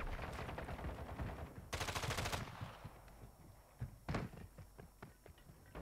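Gunfire in the shooter game Warzone, with bursts of rapid automatic shots, a dense loud volley in the middle and a few sharper single cracks after, set against steady game ambience.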